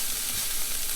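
Corn sizzles and fries in hot oil in a pan, a brief, steady crackling hiss close up with no voices.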